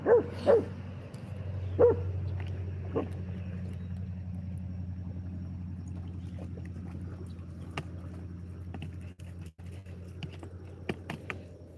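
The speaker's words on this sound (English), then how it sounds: "We got the Fisher dog here running around." A dog barks a few sharp times at the start outdoors by a lake in the evening, then a steady low background hum with faint scattered clicks follows.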